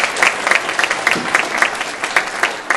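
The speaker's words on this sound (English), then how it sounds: "Let's just give all of you a round of applause for being here." An audience at a San Mateo County climate summit breaks into applause, dense, lively clapping from a roomful of people, close and sustained throughout.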